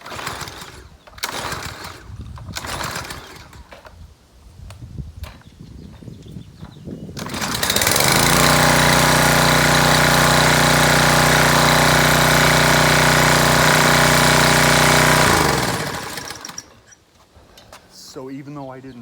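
A Craftsman pressure washer's Briggs and Stratton 163cc engine, after a carburetor rebuild, takes a few pull attempts, then starts and runs loud and steady at close range for several seconds before shutting off, with speech around it.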